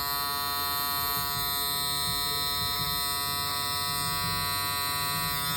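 An electric clipper-style trimmer buzzing steadily and close up while trimming a man's mustache, a constant whine with faint shifts in tone as the blade meets the hair.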